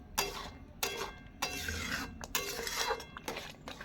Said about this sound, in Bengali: আমি সুজিটায় যে অল্প অল্প করে দেব আর নাড়তে থাকবো, এইভাবে নাড়বো